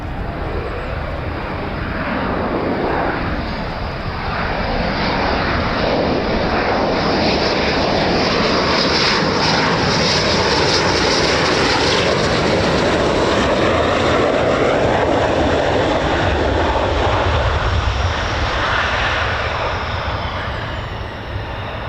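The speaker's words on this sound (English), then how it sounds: "Our last F-15 from today's departures." An F-15 fighter jet departs RAF Lakenheath with a loud, sustained jet roar that builds and sweeps past, filling the whole stretch without a break.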